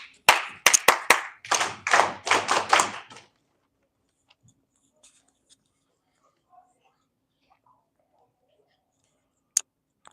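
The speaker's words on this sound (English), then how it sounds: "I'm going to do a little clappy clap because I like the clappy clap." A small group claps in a few quick bursts for a couple of seconds, then the room goes almost silent apart from faint scattered ticks and one sharp tap near the end.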